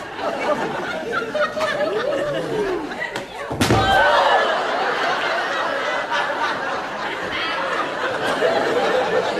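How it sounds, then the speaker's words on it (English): A single heavy slam against a door lands near the middle, a loud thud amid a noisy room with people chattering and laughing in the background. "Why not we smash the door up?"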